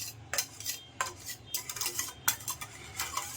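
Whipped egg whites and yolk for an omelette are gently folded in a bowl with a utensil, producing light, irregular scraping and clinking strokes close by, with no talking.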